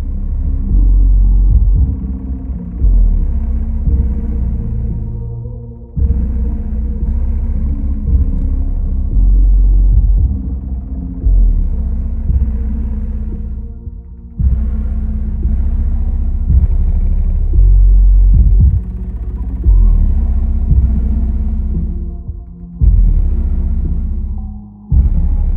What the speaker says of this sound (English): Now let's try this out with a subwoofer,